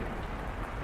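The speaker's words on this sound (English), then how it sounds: "The sound of the pouring rain drowned out everything else." Heavy pouring rain hisses steadily and evenly in the visual novel game The House in Fata Morgana, a dense continuous wash with no other sounds.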